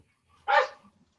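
One sharp dog bark, close and loud, stands alone against near silence.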